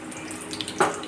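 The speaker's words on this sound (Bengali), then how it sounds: "এবার তাওয়ার মধ্যে ছেড়ে দেব পরোটা অল্প সামান্য তেল দিয়েছি একটু সেখানে এইভাবে ঠিক ভেজে নেব" Paratha frying in a little oil on a tawa, a soft, steady hiss and sizzle close by, swelling briefly near the end.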